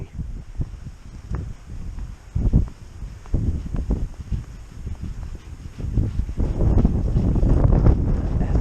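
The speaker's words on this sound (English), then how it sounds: "Oh god, it's still windy." Gusty wind during a snow and ice storm in Portland rumbles against the microphone in uneven bursts, building to a stronger, steadier roar toward the end.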